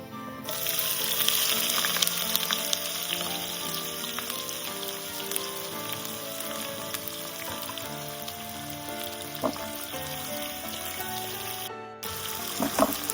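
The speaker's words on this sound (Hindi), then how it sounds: "तड़का तड़क चुका है, अब मैं इसमें प्याज डालूंगी।" Onions added to hot oil after spice tempering for a mushroom masala, giving a dense continuous sizzle with occasional small pops that steadies over several seconds, close by.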